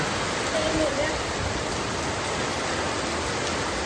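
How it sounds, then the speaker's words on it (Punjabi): Heavy monsoon rain pours down in a dense, unbroken hiss, loud and close, with no letup and no voices heard over it. "ਦੇਖੋ ਕਿੰਨਾ ਮੀਂਹ ਪੈਣ ਲੱਗਿਆ"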